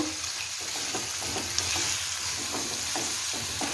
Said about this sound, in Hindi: अब इनको मिक्स करेंगे मसालों को।